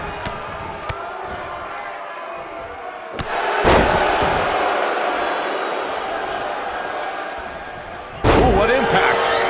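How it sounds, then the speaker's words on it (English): Heavy impacts of a wrestling slam in WWE 2K19 thud over a roaring arena crowd, with a sharp broadband crash near the start, a louder burst mid-way and another hard hit at the end, commentary voices running underneath. "Big time slam."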